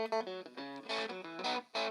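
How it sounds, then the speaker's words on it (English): Electric guitar played through a homemade ADAU1701 distortion pedal, short chords and notes with a buzzing, gritty, harmonic-rich tone in choppy bursts, loud and close. "I hear distortion."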